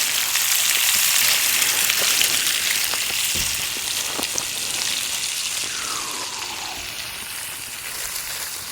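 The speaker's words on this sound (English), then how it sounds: "Got a nice fire, some nice coals going here, and some fillets that are bacon wrapped" Bacon-wrapped fillets and a foil dinner cooking over glowing campfire coals at a state park campsite, giving a steady, close crackling sizzle with fine popping that continues throughout without talk.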